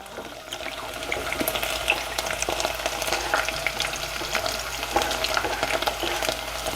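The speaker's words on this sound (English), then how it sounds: "So now we're gonna take the onions and put it in the pot." Sliced onions frying in a pot for a Spanish tortilla, producing a constant close sizzle with intermittent crackles and stirring clatter throughout.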